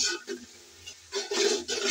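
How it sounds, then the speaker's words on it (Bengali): Onion fried with ginger and garlic paste is stirred in a pan: short scraping and sizzling bursts come in several uneven strokes with quiet gaps between, close and moderately loud. "আদা রসুন একসাথে পেঁয়াজের সাথে আবারও নেড়ে চেড়ে হালকা করে ভেজে নেব"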